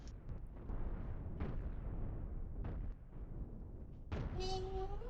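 Ship cannons in the Cosmoteer space-ship building game fire as a handful of faint, muffled booms spaced about a second apart over a low rumbling background, the last shot followed by a thin whistling tone.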